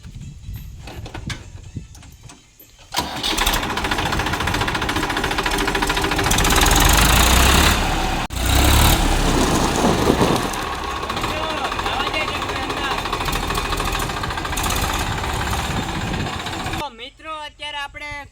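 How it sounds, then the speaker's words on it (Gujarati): A tractor engine runs loud and steady with a knocking chug while being driven inside, starting after a quiet moment, briefly dipping midway, then cutting off near the end, with voices heard around it. "ચાલો ટ્રેક્ટર અંદર મેલી આવીએ"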